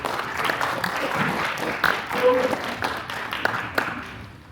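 An audience at an evening veterans resource fair applauds a speaker telling her story, moderate clapping of a modest crowd that rises and falls, with some sharper individual claps standing out near the end.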